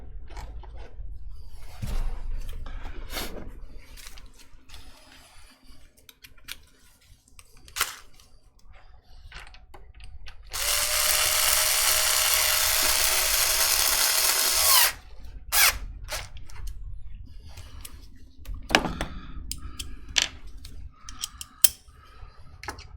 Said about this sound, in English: I have an automatic screwdriver here somewhere